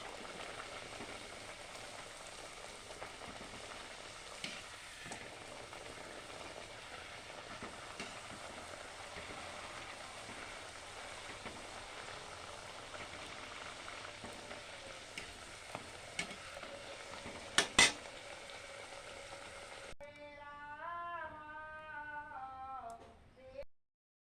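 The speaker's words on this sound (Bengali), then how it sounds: "পাপড়ি চাটগুলি এখন ভেজে নেব সবগুলো একসাথে দেখুন" Papri chaat dough pieces frying in hot oil in a home kitchen, a steady low sizzle with occasional clinks and a couple of sharp knocks, ending in a brief burst of tonal sound.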